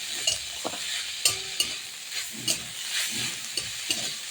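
Cauliflower leaves spiced with turmeric are stirred in a frying pan, making a soft sizzle under sharp intermittent scrapes and knocks of a utensil against the pan, close by and with no voices.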